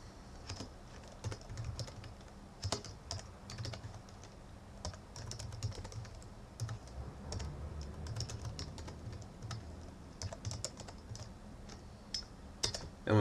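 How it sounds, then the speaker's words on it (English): Steady keyboard typing of a command on a computer while setting up MediaWiki on Ubuntu 10.04, with rapid irregular clicks running throughout at close range and moderate level, and no speech. "I'm going to type this command here"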